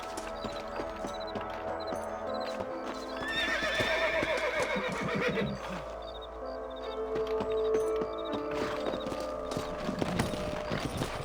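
Horses whinny and neigh several times over a steady clip-clop of hooves in the game Red Dead Redemption on PC, with background game music and ambience throughout.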